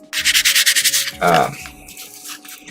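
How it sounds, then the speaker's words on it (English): A plastic gunpla model part roughened with 400 grit sandpaper is rubbed in quick back-and-forth strokes, a close, scratchy rasping with a brief squeak partway through. "I roughed it up with some 400 grit sandpaper. You can hear that it's pretty rough, right?"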